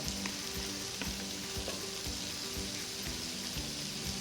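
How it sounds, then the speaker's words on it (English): Broccoli sizzling in a hot pan with garlic, a loud, continuous crackling fry with faint clicks and stirring, steady throughout with no talk. "now I'm going to add my broccoli"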